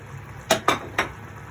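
A spoon stirring menudo with carrot and potato in a pot, giving three quick metallic clinks against the pot over a faint background hiss.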